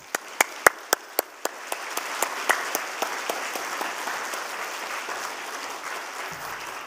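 A church congregation at a Wednesday worship service applauds to welcome a guest missionary speaker, with a few loud individual claps at first that swell into steady, full applause before fading out.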